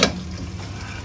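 Potatoes stir-fry in a pan for curry, a brief close sizzle opening with a scrape of the utensil, then a steady hiss.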